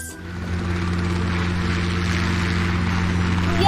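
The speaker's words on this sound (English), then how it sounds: "Yes, it is a helicopter." A helicopter sound effect plays alone, a steady loud engine drone with a droning low hum that holds evenly throughout.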